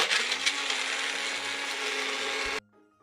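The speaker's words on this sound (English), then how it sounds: "I'm blending ice" A blender crushes ice in a loud, continuous grinding roar that runs steadily for about two and a half seconds, then cuts off abruptly into near silence.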